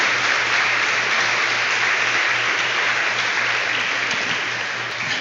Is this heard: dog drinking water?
no